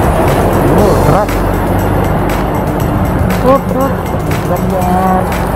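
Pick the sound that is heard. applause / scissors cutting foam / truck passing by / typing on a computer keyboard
truck passing by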